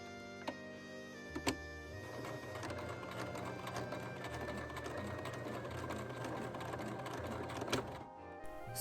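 A domestic sewing machine stitches a wide placket onto a 1940s-style slip, its needle running in a steady continuous whir with a few sharp clicks at the start and end, close and fairly loud with no talk.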